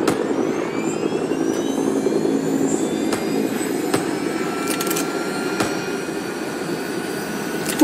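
Steady whine and rumble of a helicopter engine in the video game Rising Storm 2 Vietnam, sitting on a landing pad, running continuously at even loudness with faint clicks and game noises over it.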